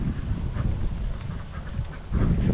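A dense flock of around 2,000 ducks crowded into a small farm pen of about 50 square metres quacks continuously, a loud overlapping chorus with no break.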